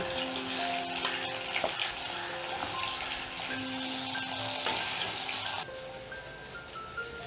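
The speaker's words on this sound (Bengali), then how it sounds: "প্রথমে বেগুন ভেজে নেব।" Eggplant pieces rubbed with salt and turmeric fry steadily in hot mustard oil in a kadai, a dense crackling sizzle running throughout that eases slightly in loudness near the end, with no talking.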